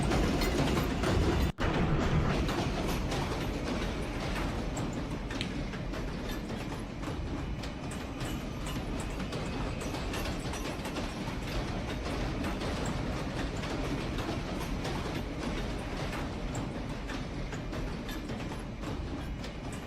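A Minecraft recreation of a New York City subway train, a Brooklyn-bound R local near City Hall, running steadily along its tracks with a continuous rumbling rattle and a sharp click early on, moderately loud and without speech.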